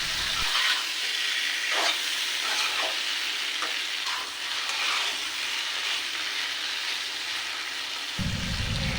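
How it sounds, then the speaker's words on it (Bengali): Fried pointed gourd and potatoes are stirred together in a hot pan, giving a steady oily sizzle with scraping spatula strokes throughout, close and alone without talk. "এখন আমি দিয়ে দিলাম ভেজে রাখা পটল দেওয়ার পরে আবারও ভালোভাবে আমি নাড়াচাড়া করে একসাথে সবজিগুলো মাখিয়ে নিচ্ছি"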